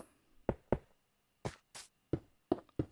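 Stone bricks set down one after another in Minecraft while building a basement floor, a series of short, hard knocking thuds spaced unevenly, each crisp and close with brief gaps of quiet between.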